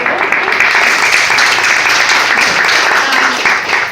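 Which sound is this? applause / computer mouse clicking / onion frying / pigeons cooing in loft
applause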